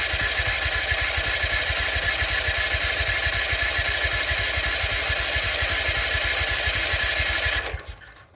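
A small engine with a wobbly crankshaft cranks steadily for about seven and a half seconds, a fast rhythmic churning pulse with a constant loud roar, then cuts off abruptly without catching.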